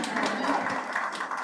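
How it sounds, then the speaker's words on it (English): An audience at a safeguarding and child protection workshop claps for a speaker, a dense patter of many hands at moderate distance that stays fairly even for a moment, with a voice faintly mixed in. "here is where you clap for me"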